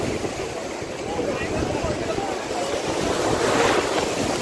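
Sea surf at a beach on the Puri coast rolls in as a steady, loud broadband wash that swells slightly toward the end, with wind buffeting the microphone.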